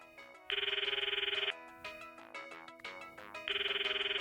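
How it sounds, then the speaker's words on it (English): Cell phone ringtone in the Steins;Gate visual novel video game, a bright trilling electronic melody ringing in two bursts with a quieter stretch of game music between them. "What is this sound? It sounds like Mayushi's cell phone."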